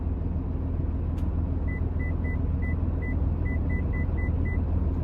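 A microwave gives a series of short, evenly spaced electronic beeps as its timer is set, heard over a steady low rumble inside a truck cab.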